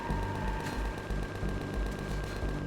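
A minigun in the space game Empyrion fires a rapid, dense stream of rounds with thumping low-end pulses, steady and continuous behind a constant electronic tone.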